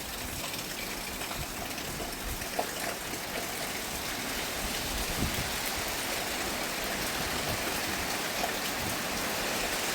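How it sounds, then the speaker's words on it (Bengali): Steady monsoon rain falls in the Sundarbans mangrove forest, a soft, even patter on surfaces that continues without a break and with no talking. "বৃষ্টি চলছে তো চলছে সেই আগের রাত থেকে।"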